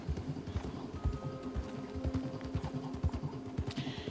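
Horse hooves clip-clopping in Red Dead Redemption 2, a steady rhythmic trot of hoof strikes moving along at moderate loudness, with a faint tonal game hum underneath.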